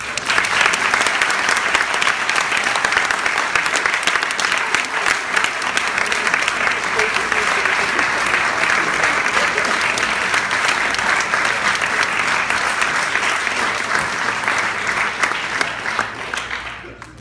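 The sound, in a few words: audience applause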